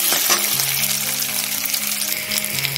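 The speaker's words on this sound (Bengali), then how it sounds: "আলুটা দিয়ে আমি একবার ভালোভাবে ভেজে নেব।" Boiled potatoes frying in a pan make a steady close sizzle with soft crackling, continuous and even throughout, without any talk.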